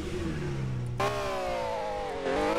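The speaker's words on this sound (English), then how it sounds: "we're gonna race with my 2006 Velos Mercy R" 2006 Velos Mercy R supercar engine racing in the game Wayfort, revving low, then jumping sharply to a loud high whine that climbs in pitch, with no talking.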